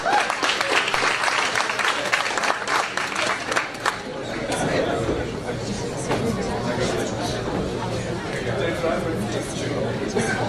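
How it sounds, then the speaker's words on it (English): An audience at an African diaspora investment symposium applauds arriving panelists, a loud, full burst of clapping that settles into steadier applause mixed with crowd chatter. "Please help me to welcome our panelists with a hearty round of applause."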